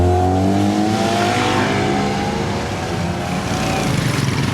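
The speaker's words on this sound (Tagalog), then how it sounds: "Si Max na yung mag-road test. Pinapakataw natin. Para marinig natin yung muffler." A Honda Civic FD's aftermarket muffler revs hard on a road test, its loud, steady exhaust drone climbing and settling in pitch over a few seconds, close and continuous with no talk.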